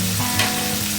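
Fish curry with salt, turmeric and cumin powder being stirred in a frying pan, giving a steady close sizzle with soft scraping of the utensil and a slightly louder stir partway through.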